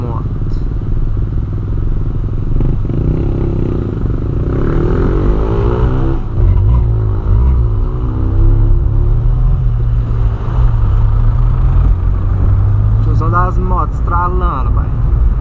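A Volkswagen Polo Sportline with a 1.6 engine revs and rumbles close by, with rising and falling engine pitch and a few crackling pops near the end while someone talks over it.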